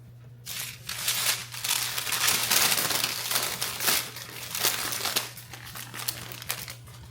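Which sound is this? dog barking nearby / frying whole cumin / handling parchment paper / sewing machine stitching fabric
handling parchment paper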